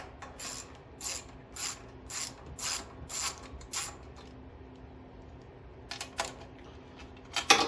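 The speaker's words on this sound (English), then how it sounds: "we'll go ahead and remove the 2 nuts here holding on the back cover" A ratchet wrench clicks in repeated bursts while backing off two nuts from the back cover of a Powerhorse 11000ES 11050-watt gasoline generator, rhythmic close ratcheting with pauses between runs.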